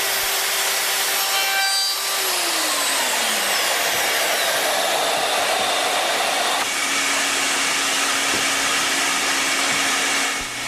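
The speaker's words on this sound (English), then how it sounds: "use a cheap trim cutter to finish the cut" A handheld wood router fitted with a cheap bearing-guided trim cutter finishes a pre-cut mortise, a steady high whine running continuously with a slight pitch drop partway as the cutter loads in the wood.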